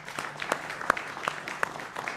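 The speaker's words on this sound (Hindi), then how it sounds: "मुझे लगता है न्यायालय के लिए एक ताली बनती है।" A studio audience on a Hindi live TV debate show applauds the court's verdict, with steady clapping and a few sharper claps standing out and faint voices underneath.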